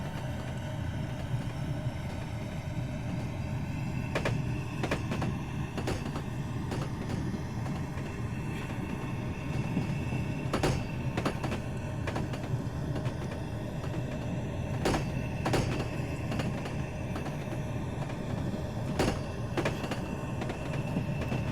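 An M2/M4 commuter train in Train Simulator 2020 accelerates with a steady, loud rumble of motor and rolling noise, broken by scattered sharp clicks and clunks from the wheels and car bodies.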